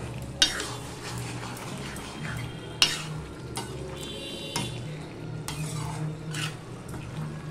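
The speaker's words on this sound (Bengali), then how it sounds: "গরম মশলা দিয়ে আমি সম্পূর্ণটা মিশিয়ে নিচ্ছি" A spoon stirs fish head curry with potato and papaya after garam masala goes in, with a few sharp clinks against the pot and a soft scraping and faint sizzle underneath.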